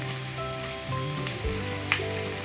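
Half an onion sautéing in a pan for a Kerala jackfruit seed stir-fry, giving a steady, close hiss of frying with a few stir clatters, while soft tonal music plays underneath.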